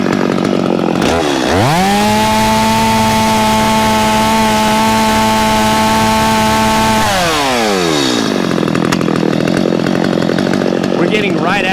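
A Stihl MS250 chainsaw engine, already warmed up, climbs sharply to a steady high-pitched scream near 13,000 RPM, holds there loud and close for several seconds, then drops back to a rough idle.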